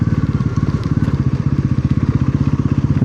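A motorcycle engine chugs at idle as the bike is moved into a parking spot at the start of a village, a loud, close, rhythmic thumping beat that holds steady throughout.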